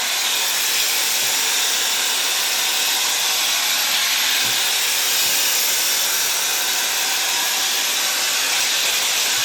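A Shark FlexFusion multi-styler on its wet-hair setting blows loud, continuous hissing air over damp hair, a steady close-up rush with no pauses or talking.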